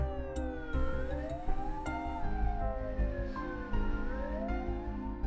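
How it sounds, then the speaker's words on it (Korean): A fire truck or ambulance siren wails, rising and falling in long sweeping tones, loud and steady over low traffic rumble, with no voices. "소방차든 뭐 구급차든 이런 소리가 들리면"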